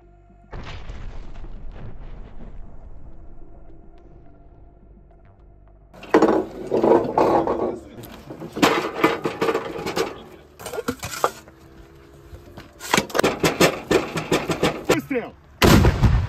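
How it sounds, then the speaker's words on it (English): D-20 howitzer artillery fire and ammunition depot explosions in combat footage: a sharp opening blast, then heavy booming detonations and rumbling bursts in clustered waves, loud and dense. "D-20 howitzer crews of the airborne troops destroyed a group of airborne troops and an ammunition depot."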